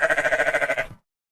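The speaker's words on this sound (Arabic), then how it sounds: "خروف" A sheep bleats once, close and clear, with a rapid wavering quiver through the call, alone for about a second.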